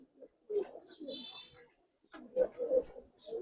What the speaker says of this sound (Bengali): এই একজন চীনা কবুতর দেখেন